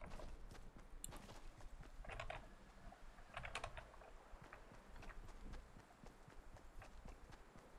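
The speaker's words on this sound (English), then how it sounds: "Thought I heard footsteps." Faint footsteps in the Fortnite battle royale game, a steady run of soft, quick taps over several seconds mixed with keyboard-like clicking, quiet and without talk.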